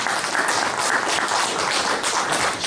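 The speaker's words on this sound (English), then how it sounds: "Give them a round of applause." Broad, steady applause from a lecture audience at a UFO network talk, a dense wash of many hands clapping continuously with no voices over it.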